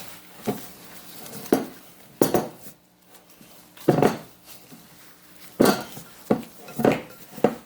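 A warm Butterfinger candy mixture is worked by hand in a bowl, giving irregular soft thumps and dull knocks against the dish. Quieter gaps fall between the bursts.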